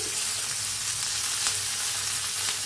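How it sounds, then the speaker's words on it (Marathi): Chillies, peanuts and garlic roasting in hot oil for a chilli chutney, giving a loud, dense crackle and sizzle that continues without a pause. "मस्त भाजायला आले, कसा आवाज यायला आलाय, चटचट चटचट बघा"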